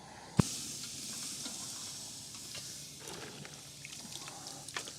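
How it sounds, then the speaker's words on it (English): Meat sizzles with a steady, crackling hiss over a smoker fire, after a sharp knock at the start; soft clicks and pops scatter through. "Oh, listen to that sizzle."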